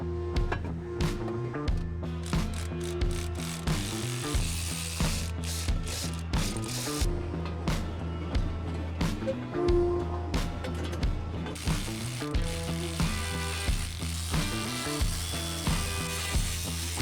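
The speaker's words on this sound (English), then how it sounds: "just putting my torque converter bolts in" A hand ratchet clicks in short repeated bursts while torque converter bolts are tightened, close and fairly quiet, over a steady hum of shop machinery.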